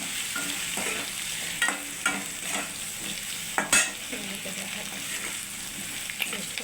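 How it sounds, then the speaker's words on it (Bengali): Spices for a fish curry being stirred in a frying pan, repeated scraping strokes and a sharp clatter over a soft sizzle, close and moderately loud, no talking. "মশলাটা আছে না, তো মশলাটা নাড়াচাড়া করে নিই।"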